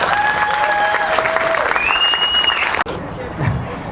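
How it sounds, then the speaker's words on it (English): An audience at a Christmas event gives a warm round of applause, full steady clapping with a few whoops, cutting off sharply near the end before a voice begins speaking. "So, Barbara, I know you're not here, but please give a round of applause for Barbara."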